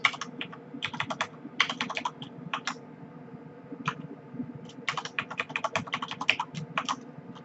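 A root password typed on a computer keyboard during VMware vSphere ESXi setup: quick clusters of close, crisp keystrokes separated by short pauses, over a faint steady hum.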